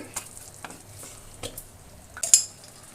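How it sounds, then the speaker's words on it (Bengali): Homemade ghee made from skimmed milk cream is drizzled into a vegetable khichdi pan, giving a quiet, intermittent sizzle with a few soft spoon taps and a brief louder crackle near the end. "খুবই সামান্য একটু ঘি দিয়ে দিচ্ছি"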